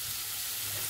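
Onions and spices fry in a pan for a vegan mushroom curry, giving a steady, close hiss and crackle of sizzling oil that holds evenly throughout with no voices.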